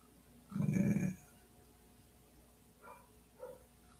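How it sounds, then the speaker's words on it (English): A dog gives one loud, deep bark or growling woof near the start, followed by two faint, brief yelps or whimpers further off, with quiet between. "The dog barking."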